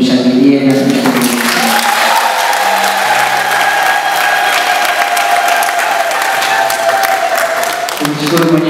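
A church congregation in Tabora cathedral applauds and cheers the installation of a new parish priest, sustained clapping and whoops mixed with a voice and sustained musical tones.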